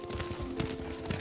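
Horse hooves gallop in a fast, even clip-clop rhythm while riding in the video game Ghost of Tsushima, steady quiet beats over a low ambient hum.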